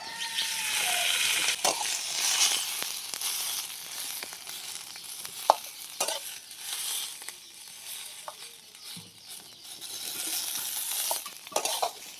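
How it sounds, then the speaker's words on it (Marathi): Steady sizzling of onions roasting in oil in a wok, with occasional scraping stirs and light clinks of a utensil against the pan. "ते पण कढईमध्ये थोडस भाजून घेणार आहे मी"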